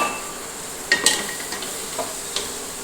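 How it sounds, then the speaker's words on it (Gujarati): Garlic chutney stirred and sautéed in a pan with vegetables, a low sizzle with a few sharp scrapes and taps of the spoon against the pan, scattered across the clip, no talking. "અને હવે તેને બરાબર મિક્સ કરી લઈશું અને ચટણીને બરાબર સાંતળી લઈશું"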